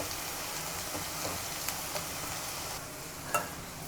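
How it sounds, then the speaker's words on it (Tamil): Broccoli fries in hot oil in a pan, giving a soft, steady sizzle with a few light clicks of stirring, quiet and close with no talking. "எண்ணெயிலே கொஞ்சம் நேரம் வேகட்டும்."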